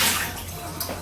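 Tepid water poured out of a warmed mixing bowl in a kitchen, a brief splashing gush that fades into a soft trickle, close and alone.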